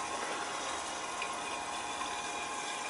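Water from a leaking boiler relief valve pouring steadily into an overflow drain, a continuous close gushing rush with no pauses, no voices over it.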